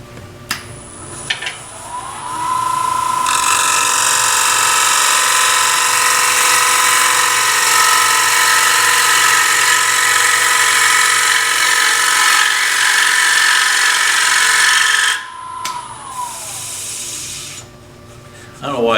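A bowl gouge cuts into a bowl spinning on a wood lathe, a steady loud scraping whir that holds for about twelve seconds before easing off into the lathe's quieter hum.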